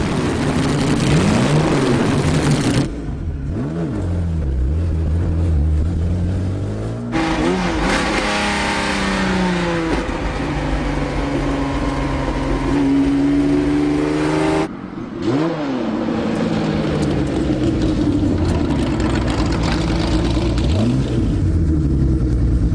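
A Jaguar short-nose D-type racing car on a road test: a loud, close engine revving and pulling hard through repeated gear changes, pitch sweeping up and dropping at each shift, with brief lifts between pulls and no talk.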